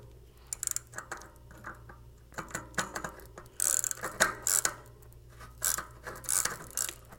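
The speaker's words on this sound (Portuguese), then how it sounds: "Encaixei a catraca, tá vendo? Realmente tá rodando em falsa." A loose Shimano bicycle freehub ratchet spins on a stripped hub, giving bursts of rapid, close mechanical clicking that start and stop in uneven runs.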